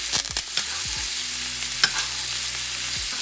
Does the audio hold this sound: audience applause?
no